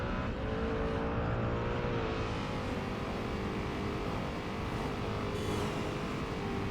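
A McLaren sports car in the Driver: San Francisco video game drives with a steady engine drone and rising revs, holding a constant level throughout with no talk over it.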